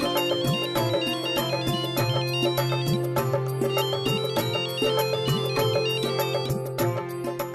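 A phone ringtone plays during an outgoing call in a Hindi TV serial scene: a bright, repeating electronic melody that rings steadily and loudly for several seconds, with no talk over it.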